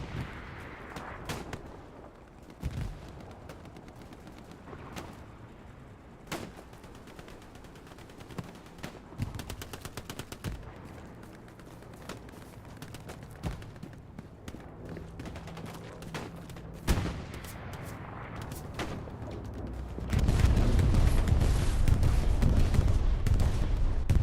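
Machine gun fire in a Hell Let Loose battle on Juno Beach, with rapid bursts and scattered shots crackling over a distant battlefield rumble that swells into a loud, dense roar of sustained fire near the end.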